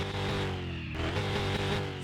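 A supercharged V8 engine in a Salem 1500 truck in the video game Car Mechanic Simulator 2021 runs loud and steady with harmonic layers, its pitch wavering slightly as it revs, heard alone without any talk.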